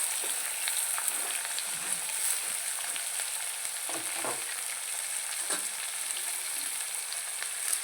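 Chili, onion and carrot frying in a pan for a Kerala-style upma: a continuous hiss and sizzle with occasional soft stirring scrapes, steady and close, with no voices.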